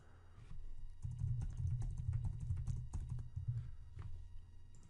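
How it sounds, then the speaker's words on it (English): Quiet, steady clicking of keys being typed on a computer keyboard, a close, continuous patter that starts after a brief pause, with no talking. "now you can start typing whatever you want"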